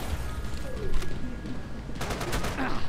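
Gunfire in the video game Max Payne 3 during an office shootout: bursts of rapid shots, with a dense volley near the end, over constant game background noise.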